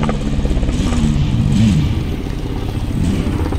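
A vehicle engine in Call of Duty: Warzone pulls away and revs up loud and close, its mid-pitched drone rising and then settling into a steady, rattling hum.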